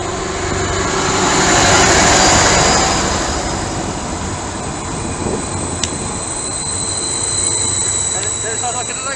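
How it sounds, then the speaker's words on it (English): Greater Anglia train pulling out of Ely station toward Peterborough, a loud rumbling roll with wheel and rail noise swelling then easing, faint high squeals over it and people talking nearby. "Departing now is the 12:58 Greater Anglia service to Peterborough"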